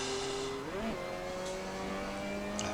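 Mazda Cup race car at Sonoma in Assetto Corsa, its engine note droning steadily, then dipping and jumping in pitch at a clumsy gear change before settling into a sustained tone.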